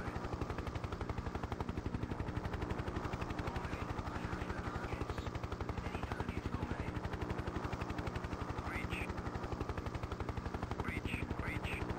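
A steady helicopter rotor thrum runs throughout, with rapid bursts of 30mm cannon fire rattling over it, in the 1996 video game Hind.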